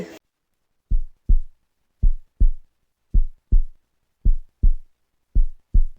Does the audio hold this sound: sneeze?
no